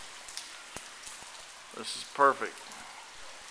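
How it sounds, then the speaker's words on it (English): Rain falls outside a balcony overhang at a house, a soft, continuous patter in the background while a person speaks briefly nearby. "like today, when it's raining,"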